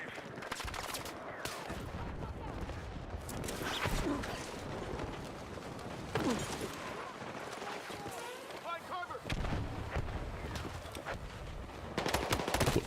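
Gunfire in the video game Battlefield 6, busy bursts and scattered shots mixed with rumbling battlefield noise, moderately loud and continuous, with a person talking over the action.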